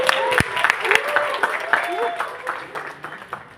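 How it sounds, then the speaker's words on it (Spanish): Scattered applause from a conference audience greeting Enrique Bunbury, patchy clapping that thins out over a few seconds, mixed with some nearby voices and room noise. "Un aplauso, Enrique Bunbury, con nosotros."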